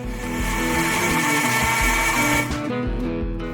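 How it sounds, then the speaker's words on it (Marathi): A mixer grinder whirs steadily as it grinds coconut with half a cup of water, a loud continuous motor drone with a churning wet texture that cuts off near the end, leaving a brief quieter hum. "मिक्सरात सोय घालका, अर्ध कप उदक घालका आणि जरा कसकशी वाटून घेवका"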